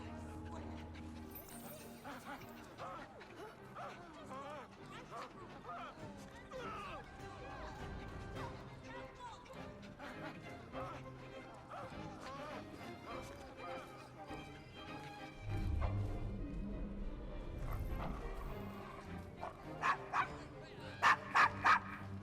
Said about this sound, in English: The dog could stop barking, that'd be great.